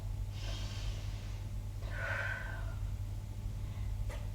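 Slow yoga breathing during an Ashtanga standing practice: a soft breathy exhale around half a second in, then a stronger airy breath near two seconds, close and quiet over a steady low hum.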